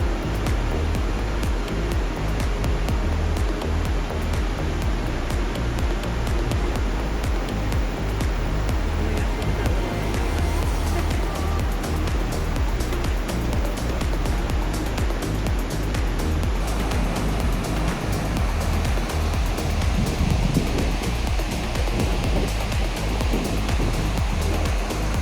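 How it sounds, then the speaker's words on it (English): Great Falls in Virginia pours through many small cascades within one large waterfall, giving an unbroken, even roar of rushing water that holds steady for the whole stretch, with no voices. "you see a lot more of all the little itty bitty waterfalls that are within the large waterfall"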